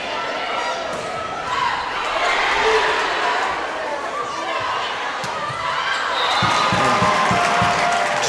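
A loud crowd fills a hot high school gym during a tight volleyball match between Fossil Ridge and Fort Collins, a steady roar of noise with thumps of the ball, while a commentator talks over it.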